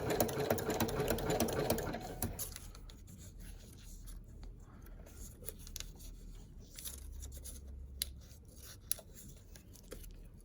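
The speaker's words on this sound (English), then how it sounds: "pre-ruffle it before you start sewing it" A sewing machine stitches a strip of paper into a ruffle, its fast rattling run loud and close for the first couple of seconds, followed by softer rustling and handling of the paper.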